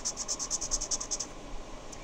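A Crayola Signature brush marker with a firm fibre nib strokes across paper in a quick run of about a dozen short, crisp scratches, close and fairly faint, followed by a brief pause.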